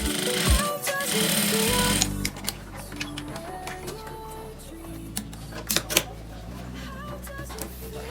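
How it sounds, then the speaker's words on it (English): A sewing machine stitching the lining of a lab coat whirs in short, uneven bursts, and sharp mechanical clacks and taps break up the stitching. A loud noisy patch opens the clip. "I'm gonna have to sew my lining."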